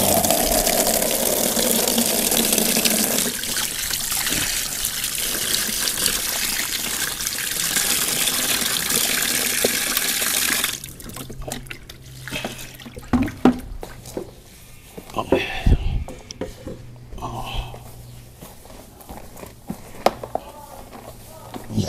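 Water pours steadily onto coconut pulp compost for about ten seconds, then gives way to scattered splashes, drips and faint handling noises.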